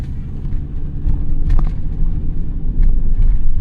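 A van rolls off a rattling gravel and dirt road onto pavement, a loud low engine and tire rumble with scattered knocks and rattles that steadies as it moves along, no voices.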